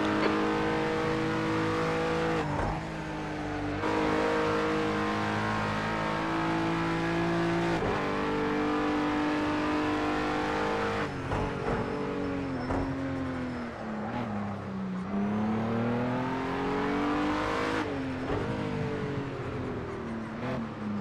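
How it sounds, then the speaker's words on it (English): GT racing cars at a British GT Championship round drive past, with engines revving and shifting through gears in a continuous loud roar, pitch rising and falling, with no talk. "There's a faster car approaching."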